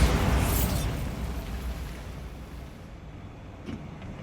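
A Bombarda blasting spell in Hogwarts Legacy goes off as one loud, close explosive burst that fades into a long rumbling decay, with a small pop near the end.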